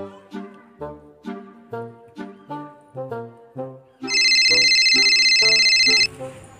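A mobile phone ringtone sounds during a call in a Bundeli comedy sketch: a loud, steady electronic ring of about two seconds cuts in after a run of rhythmic, repeating musical phrases.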